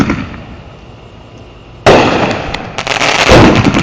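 Fireworks exploding at a Fort Bragg show, a sudden loud burst followed by crackling and popping against a steady background rumble, close and powerful.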